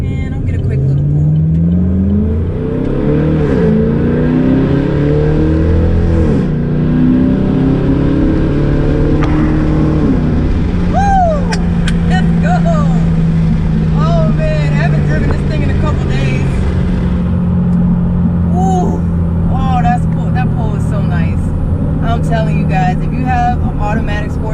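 Chevrolet Camaro with an automatic gearbox driven in manual mode, engine note rising and falling through several downshifts and a short pull, a loud continuous drone with someone talking over it from inside the car.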